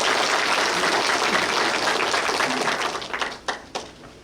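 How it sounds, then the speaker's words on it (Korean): An audience at an outdoor community concert in Buyeo County, South Korea, applauds loudly and steadily, then the clapping thins out into a few scattered final claps. "박수로 환영해 주시기 바랍니다."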